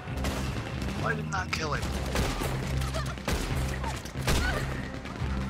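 Gunfire from a firefight in Red Dead Redemption Online, with loud, dense bursts and single shots crackling continuously over game background noise while someone speaks briefly.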